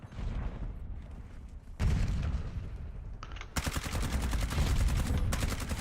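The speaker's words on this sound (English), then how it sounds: "Grenade incoming." A grenade blast and rapid gunfire in a Call of Duty hardpoint multiplayer match: dense bursts of automatic fire, then a heavy boom that gives way to sustained, loud, rattling shots and no talk.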